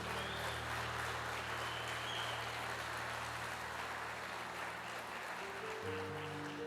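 A church congregation at a worship service applauds in a sustained, steady wash of clapping, with a low organ or keyboard chord sounding underneath and shifting near the end.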